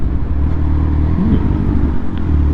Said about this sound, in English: Another bike.